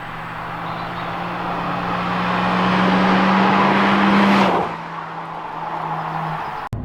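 A Honda Civic Type R (EP3) engine revs hard on its high cam profile, its pitch climbing steadily to a high scream before the revs drop off sharply near the end.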